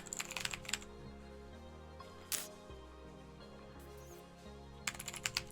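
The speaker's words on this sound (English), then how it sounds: "Sometimes typing is just faster." A computer keyboard typed on nearby in short bursts, a quick cluster of clicks, a single sharp keystroke, then another rapid flurry, with a low electronic hum underneath.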